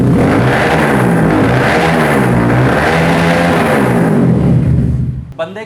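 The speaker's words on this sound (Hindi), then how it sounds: "बहुत लाउड साउंड है सिंगल सिलेंडर होने के बावजूद" Loud, close revving from a single-cylinder motorcycle with an aftermarket exhaust, the engine note surging and easing in repeated waves before cutting off sharply at the end, with a voice partly overlapping.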